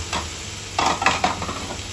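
Bony chicken pieces dropped into a pot for chicken sinigang, with a short sizzle and stirring clatter in bursts across two seconds, fairly close and moderately loud.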